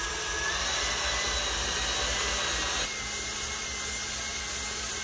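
A stand mixer runs at speed, churning cream into homemade butter, with a steady whirring motor drone that drops slightly in loudness partway through and carries on evenly to the end, no talking.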